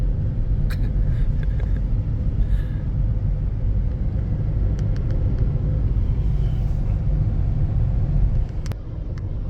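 A steady low rumble of a car's engine and road noise fills a ride, continuous and close, with a few faint clicks and a slight drop in level near the end.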